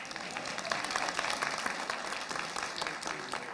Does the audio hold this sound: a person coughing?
no